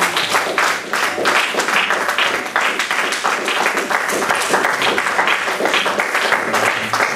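A church congregation at a French-language worship service breaks into sustained, dense applause and cheering, steady and loud throughout, with voices mixed into the clapping.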